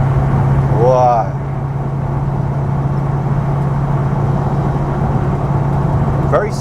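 Ultima RS car engine on the move, a steady low drone under a brief voice near the start, holding an even level with a faint sharper sound at the very end.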